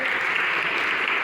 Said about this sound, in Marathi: विद्यार्थ्यांनो, साहेबांसाठी टाळ्या वाजवा सर्वांनी जोरदार.